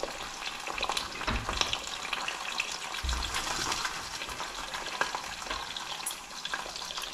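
Mushrooms sizzle and crackle steadily in a hot pan for a full English breakfast wrap, a dense frying hiss with occasional stirring scrapes, close and moderately loud.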